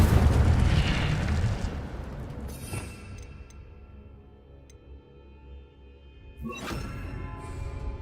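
A fiery spell blast from the Hogwarts Legacy video game, the Incendio fire spell, bursts loudly at the start and fades into a rumbling tail, with a second whooshing burst near the end.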